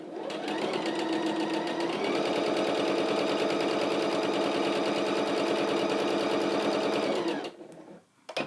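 A sewing machine runs steadily, stitching a quilted zippered pouch, with a rapid continuous mechanical whir that holds close and loud for about seven seconds, then stops abruptly.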